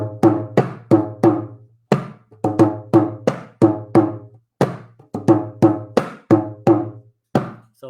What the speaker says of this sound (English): So first I will showcase Ramvong, which sounds like this.